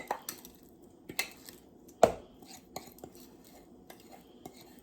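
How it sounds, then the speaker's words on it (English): Coleslaw with mayonnaise and seasoning being mixed in a bowl, with sparse clinks and taps of the utensil against the bowl and a few soft squishy turns, quiet and close, no voices. "I'm just gonna give this a good stir"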